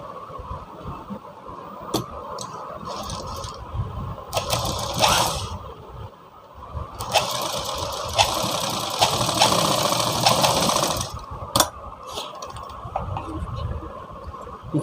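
A sewing machine stitches layered fabric for a Sabyasachi-style blouse, running in short whirring bursts and one longer steady run, with brief pauses and clicks between.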